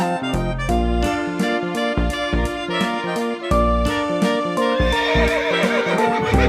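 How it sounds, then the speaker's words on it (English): A Knabstrupper mare, white with black spots, neighs repeatedly over loud rhythmic music that runs throughout. "The Knabstrupper mare."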